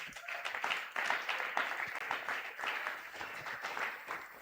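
Congregation clapping and applauding together during a Sunday praise and thanksgiving church service, a dense, steady wash of many hands filling the room for several seconds with no speech over it.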